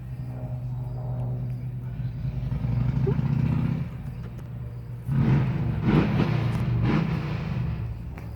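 Motorcycles rumble past outside, a low steady engine drone swelling louder midway as another bike goes by, with a person talking over the noise throughout.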